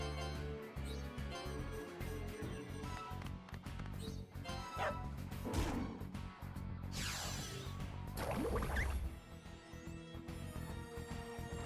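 A dog in a video game fighting a wolf, yapping and barking repeatedly in short bursts with whimpers between, layered over busy game music and effects.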